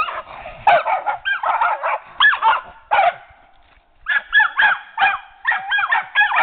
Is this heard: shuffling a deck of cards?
no